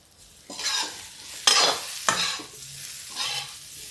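Cauliflower florets fry to a light brown in a pan, heard as bursts of sizzling and scraping as a spatula stirs them, several strokes in a row, close up with no talking.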